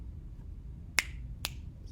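Two crisp finger snaps ring out close and clear, about half a second apart, the second a little softer, against a quiet room with no talking.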